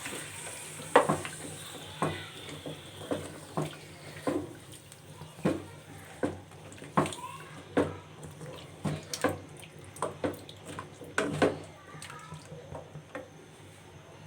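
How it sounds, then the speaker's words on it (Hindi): Chicken frying in oil with sautéed garlic and ginger, stirred with repeated scraping strokes in a regular rhythm over a soft sizzle, close. "अब हम इसमें चिकन ऐड कर देंगे और चिकन को हम अच्छी तरह से मिक्स कर लेंगे"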